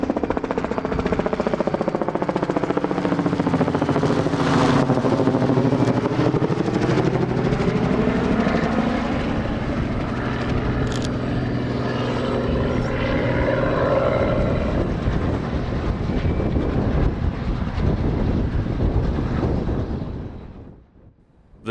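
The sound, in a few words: helicopter flying overhead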